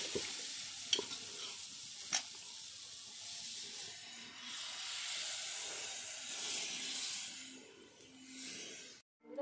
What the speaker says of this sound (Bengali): গরম হয়ে গেছে ফ্রাই প্যানটা, এবার আমি ব্যাটারটা দিয়ে দিচ্ছি।